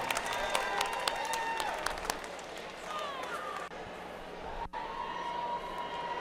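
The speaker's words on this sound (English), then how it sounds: "Let's give another round of applause to our team from Montreal." Crowd at a FIRST Robotics competition in Rochester, NY applauds for a rookie team from Montreal, with dense clapping and arena noise mixed with tonal whistles and electronic sounds, thinning after about two seconds.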